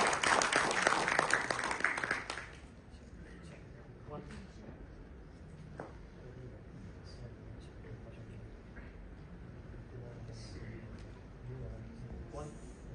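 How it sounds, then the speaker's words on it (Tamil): Audience applause greets a speaker at a music video launch event. A dense burst of clapping lasts about two seconds, then falls to a quiet room with faint scattered sounds. "உங்களுக்கு ஒரு வாழ்த்து கைத்தட்டல்"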